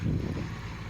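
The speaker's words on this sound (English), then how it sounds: "Holy crap, the wind was insane." Strong wind buffets the microphone outdoors in a farmyard while a Farmall H tractor is driven, a brief, loud, low rumbling gust that stays fairly steady.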